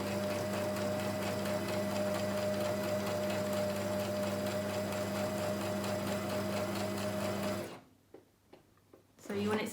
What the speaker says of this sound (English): And then you want to do a back stitch at the end as well,